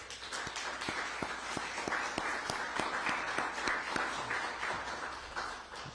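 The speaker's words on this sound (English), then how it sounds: "And I think that's worth a round of applause." Steady crowd applause at a civic education announcement event in Birmingham, with sharp individual claps standing out from a softer, somewhat distant wash of clapping that continues evenly throughout.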